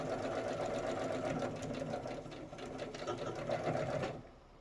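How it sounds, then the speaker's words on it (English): A sewing machine stitches a quarter-inch seam on a quilted table runner, its steady rapid whir running continuously at close range before stopping near the end. "I like to do a forward and backward stitch on both ends just to hold it together"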